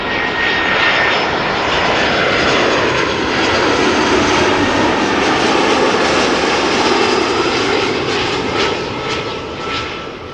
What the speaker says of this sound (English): an Easyjet Airbus arriving